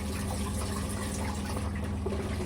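Tap water running steadily into a sink while hands are rinsed, a close, continuous splashing rush with no voices.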